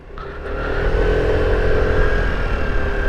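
An Aprilia SR GT 200 scooter, its roughly 170-something cc engine sounding much like a Vespa, accelerates with a steady, building whir and hum that grows louder and holds strong, with no voices.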